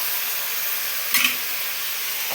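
Pieces of ivy gourd tipped into a hot pan give a steady hissing sizzle with a short louder crackle partway through, heard alone without talking.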